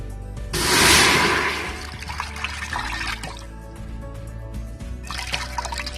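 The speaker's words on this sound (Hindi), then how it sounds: "तो इसमें हम डालेंगे पानी 1 गिलास" A glass of water pours into a pressure cooker in a home kitchen while making a spice base for chicken curry, a loud splashing gush lasting about a second, followed by quieter trickles and clatter.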